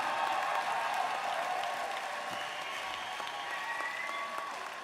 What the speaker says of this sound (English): A round of applause for these two men.